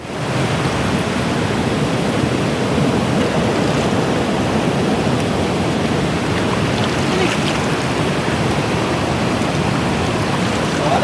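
Steady, loud rush of cold stream water flowing continuously throughout, a dense even wash of sound close by with no breaks.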